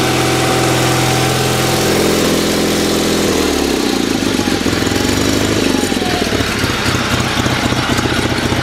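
A 10HP diesel engine on a Roper/Sears garden tractor catches and settles into a steady, loud, close idle, its rough rhythmic chugging continuing without pause.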